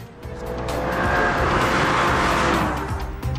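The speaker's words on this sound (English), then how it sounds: "After starting the engine, you notice this is not a normal engine." A 1992 BMW M3 E36 engine revs up: a loud, close mechanical roar that swells, holds steady and then eases off, with no talk over it.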